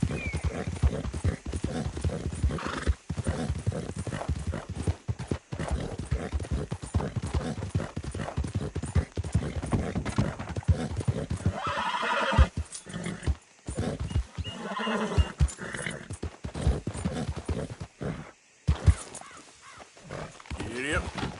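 Horse hooves clip-clop steadily in Red Dead Redemption 2, with whinnies and snorts mixed in and a brief break near the middle, while a voice talks over the action.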